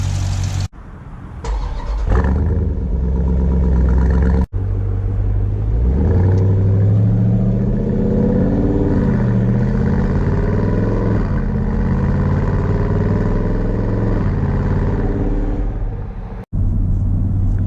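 A 2018 Dodge SRT Durango, a 475-horsepower SUV of over 5,000 pounds, cruising at normal speed with a steady, deep engine rumble that swells gently through shifts. It is loud and close, with no talk.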